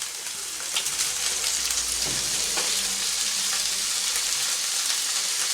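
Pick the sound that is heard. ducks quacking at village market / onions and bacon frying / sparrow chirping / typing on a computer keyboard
onions and bacon frying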